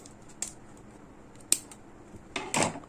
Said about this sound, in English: Then after that, I'll just cut off the yarn.